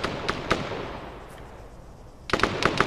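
An NPC fires at a target in Arma 3. Sharp gunshots crack in short bursts, two at the start and a rapid cluster of several near the end, with a quieter lull in between.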